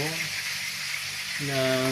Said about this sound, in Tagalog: Nagpiprito pala ako ng